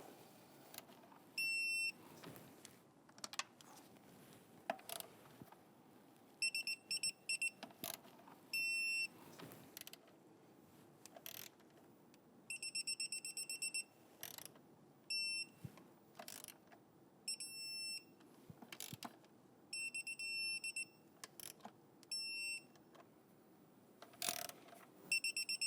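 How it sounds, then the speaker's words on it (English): A torque wrench ratchets bolts down on the upper intake of a 2011-2021 Jeep Grand Cherokee, giving repeated short bursts of fast metallic clicks with brief pauses between them, close and fairly quiet, with no talking. "Now I'm going to go ahead and torque down our bolts here."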